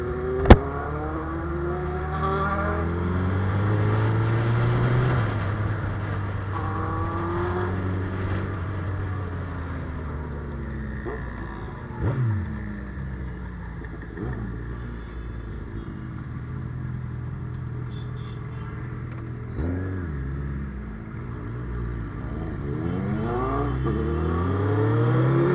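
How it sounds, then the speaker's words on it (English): Benelli TNT 600i motorcycle engine revving while riding alongside a Suzuki Hayabusa, with a steady close engine drone and repeated rising and falling rev sweeps, no talk. "That's a Benelli 600i."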